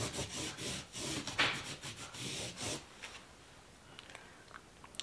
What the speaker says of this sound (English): actually I'm gonna go ahead and sand